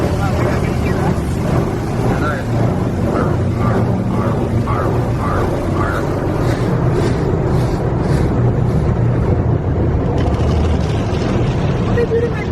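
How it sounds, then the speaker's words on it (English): A car rolls through an automatic car wash, with a continuous loud churning rumble of spraying water and machinery around the vehicle, rhythmic swishing passes from brushes, and people talking inside the car over it. "we're going to drive the car at the car wash"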